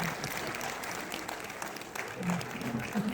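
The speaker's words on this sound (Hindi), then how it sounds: "कोई हमारे लिए भी ताली बजा सकता है सर," An audience at a Hindi poetry evening (kavi sammelan) claps in a steady, close patter throughout, with a voice rising over the applause near the end.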